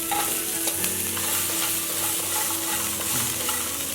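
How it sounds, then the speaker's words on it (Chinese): Fried lotus root slices tossed in a wok with chopped green and red peppers and garlic make a loud, continuous sizzle, with a scraping stir and steady crackle throughout and no voices. "随后倒入炸好的藕片，翻炒均匀。"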